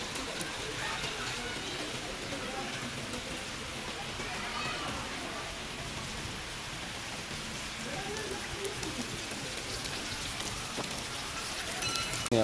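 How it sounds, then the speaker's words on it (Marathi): Soft, steady rainfall patters in a quiet, even wash of noise throughout, with faint occasional sounds of people nearby. "पाऊस आहे"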